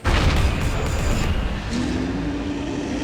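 Tank cannon fire in the video game Tank! Tank! Tank!, a loud booming blast opening the clip and rolling into a sustained low rumble with a rising mechanical tone later, no voices.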